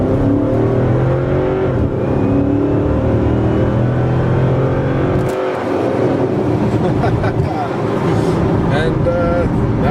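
A Chrysler 300C with a Hemi V8 accelerates from inside the cabin, engine droning and rising in pitch, then a gear change and renewed pull; voices talk over the engine at times.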